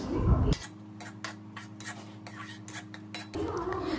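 A spoon scrapes and taps inside a metal pot while turmeric is stirred in for vegetable biryani, in a quick irregular rhythm, over a steady low kitchen hum.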